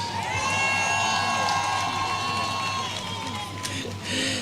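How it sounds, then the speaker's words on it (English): An audience at a police or military passing-out parade cheers and applauds outdoors, a dense roar of clapping, whoops and shouts with children's voices mixed in, steady and fairly close, while a voice talks over it. "Now it's time to applaud yourselves."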